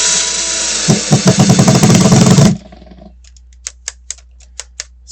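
An electric drill whirs loudly for a couple of seconds as it drives a wood screw into a block of wood, then stops, followed by a few sharp clicks.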